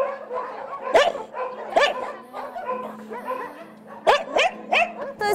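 Several dogs bark and yip in a reverberant animal shelter, sharp irregular barks mixed with whining and whimpering, some close and loud.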